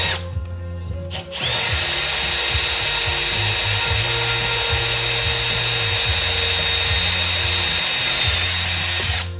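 A power drill with a tungsten carbide bit starts after a short pause and grinds steadily through material for a quad skate mount, close and continuous with brief pitch dips as it bites.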